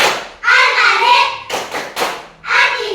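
Children chant an Asmaul Husna clapping rhyme in loud, close voices, with sharp hand claps and thuds punctuating the rhythmic singing.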